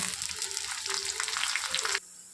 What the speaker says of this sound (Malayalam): കടുക് ഇട്ട് കൊടുക്കാം ചുവന്നുള്ളി അരിഞ്ഞത് ഇട്ട് കൊടുക്കാം കറിവേപ്പില ഇട്ട് കൊടുക്കാം